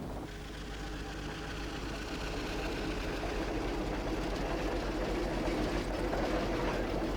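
A steam traction engine rolls along with a steady low rumble and fast, even chuffing and mechanical clatter that grows slightly louder, with no voices.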